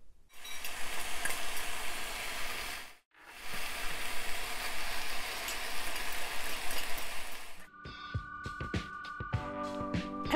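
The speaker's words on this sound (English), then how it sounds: "heat a large skillet over medium-high heat. Add the ground beef, fresh minced ginger and garlic," Ground beef with fresh minced ginger and garlic frying in a large skillet over medium-high heat, a loud continuous sizzle broken by a brief pause, ending with clinks and tonal sounds.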